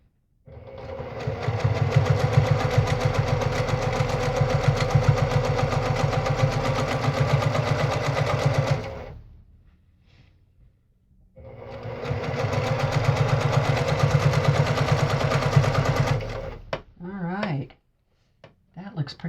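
Brother PQ1500SL sewing machine stitching free-motion quilting, two long loud bursts of fast steady needle running separated by a short pause, followed by brief handling sounds.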